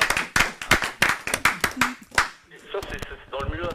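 A run of sharp, rhythmic claps rings out loud and close from a group acclaiming the Lord, then fades into someone speaking.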